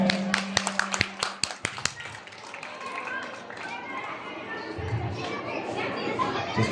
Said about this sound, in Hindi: एक बार जोरदार तालियां इनके लिए हो जाए।